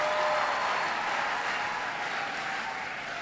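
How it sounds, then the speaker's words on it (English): Applause from a large audience at a youth conference plenary session, a steady broadband wash of many hands clapping together that holds evenly throughout and fades slightly toward the end. "So give yourself a round of applause."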